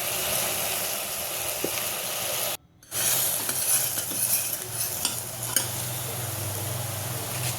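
Ingredients stirred in a hot cooking pan with salt and chili powder, a steady sizzling fry with scraping and clinking of a utensil, close and continuous apart from a brief silent cut partway through.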